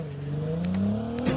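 A car engine in a video game revs steadily upward, a close, continuous whine climbing in pitch, with a few faint clicks over it.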